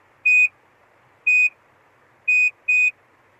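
An electric hair curler gives four short, clean electronic beeps, the first two about a second apart and the last two in quicker succession, alone against a quiet background.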